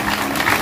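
Audience applause at a devotional jagrata concert, a short dense burst of clapping from the crowd, loud and continuous with no speech over it.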